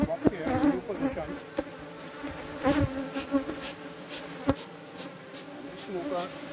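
Dense, agitated buzzing of angry Africanized honey bees swarming close around, loud droning with individual bees zipping past, occasional knocks and handling noises mixed in.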